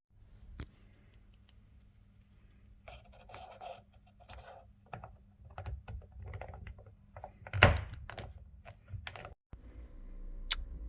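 Small clicks, taps and scrapes from handling a Jaguar XK X150 key fob and snapping its cover back on, close and quiet with a sharper click near the end.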